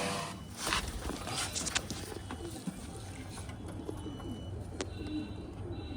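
Pigeons cooing in a loft setup with breeding birds, soft repeated coos under steady background noise and occasional footsteps, fairly close.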